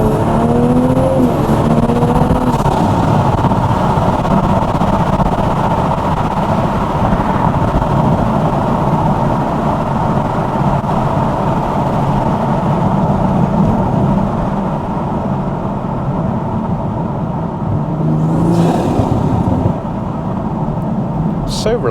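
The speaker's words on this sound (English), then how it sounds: "Absolutely love the sound of this exhaust." Toyota GR Supra with an aftermarket titanium exhaust and intake, driven at night in the UK, droning loudly and steadily from the cabin with engine hum throughout and brief shifts in pitch near the start and end.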